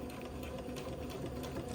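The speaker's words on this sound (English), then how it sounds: "And we'll begin to sew" A domestic sewing machine stitches a garment neckband in a steady, fast continuous whir with a faint rhythmic clatter, close and alone without talk.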